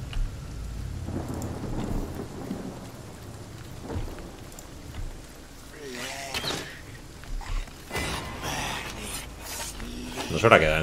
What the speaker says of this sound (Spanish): Una lluvia.